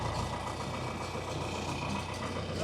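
An old tractor engine running at idle for hay baling, a steady low rumbling drone, fairly quiet and continuous with no voices.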